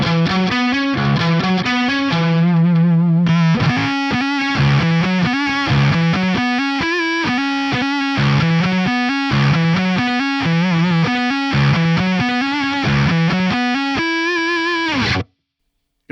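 A distorted electric guitar riff played an octave higher with open strings left in, quick repeated notes with a synth-like buzzy edge, loud and close, stopping abruptly.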